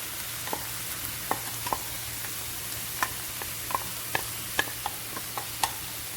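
Homemade tomato sauce hits a hot frying pan for beef lasagna, with a steady low sizzle and scattered sharp ticks and pops as a utensil stirs, close and moderately quiet.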